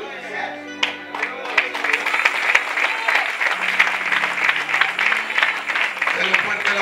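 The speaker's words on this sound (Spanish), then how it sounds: "Denle un fuerte el aplauso a Jesucristo" A congregation at an evangelical church service applauds in a strong, steady wash of clapping that is loud and close. Lingering keyboard tones sound underneath at first.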